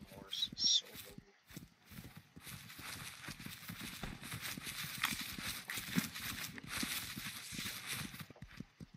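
Horse hooves clip-clop in the medieval video game Anvil Empires, a quick, continuous run of close, rhythmic hoof knocks while a player talks over them.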